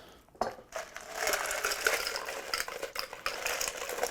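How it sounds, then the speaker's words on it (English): Ice going into a Collins glass while a vodka cocktail is built: a steady jumble of clinking, crunching cubes with sharp knocks against the glass, continuous for several seconds at close range. "we're gonna take our Collins glass and fill that with ice."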